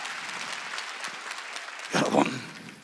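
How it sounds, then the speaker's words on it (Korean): Church congregation clapping at a Sunday healing service, a steady wash of applause that swells louder near the end, with a voice briefly rising over it. "박수 치려면 세게 쳐."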